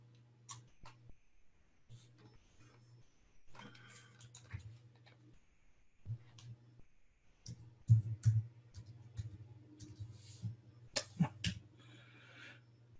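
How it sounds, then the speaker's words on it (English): Computer keyboard typing in bursts of quick clicks and taps, close and fairly quiet, separated by pauses and over a steady low hum. "I'm typing in the wrong keyboard. Typing the keyboard for the chat room."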